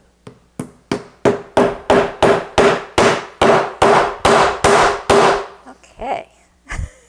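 A small toy maker's hammer taps wood about fourteen times in a steady, even rhythm while inlaying clock parts, loud and close, followed by a couple of softer knocks.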